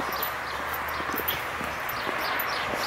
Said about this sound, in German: hier hat der Opa sein kleines Pferdchen mit seinem Tier